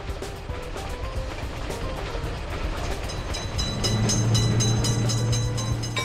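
A train rumbles steadily past a crossing in a railroad crossing simulator game, with dense continuous rolling noise and a low sustained tone swelling louder in the final seconds.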